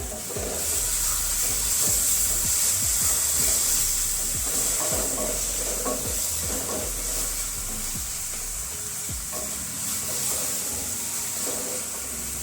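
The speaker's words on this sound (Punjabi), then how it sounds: "ਮਸਾਲੇ ਨੇ ਤੇਲ ਛੱਡ ਦਿੱਤਾ ਤੇ ਮਸਾਲਾ ਸਾਡਾ ਭੁੱਜ ਗਿਆ" Masala spices frying in oil for a tinda (Indian round gourd) curry, sizzling and hissing steadily at close range while a spoon stirs and scrapes through the pan in irregular strokes.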